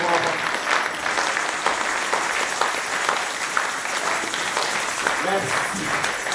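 A congregation at a French-language church service applauds steadily, a dense wash of clapping across the room with voices calling out faintly beneath it.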